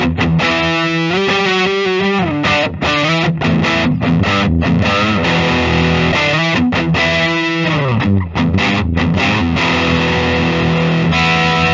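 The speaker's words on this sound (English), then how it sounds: "Go ahead and try some distortion." A 2003 Gibson Memphis ES-335 electric guitar is played through heavy distortion with a chorus-like effect, loud sustained chords and bending lead lines ringing continuously with brief gaps, close and alone without talk.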